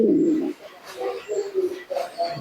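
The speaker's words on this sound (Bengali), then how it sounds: "ছ পিস মতো কবুতর আছে রানিং দেখুন" Pet pigeons kept for sale coo softly in a loft, several low, throaty calls in uneven succession, close by.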